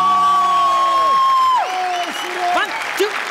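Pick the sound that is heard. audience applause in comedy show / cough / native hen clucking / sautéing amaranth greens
audience applause in comedy show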